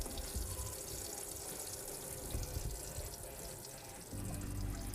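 Water from an electric tap with a pump-driven supply runs steadily into a DIY camper's sink, a soft continuous hiss and splash that thickens slightly near the end.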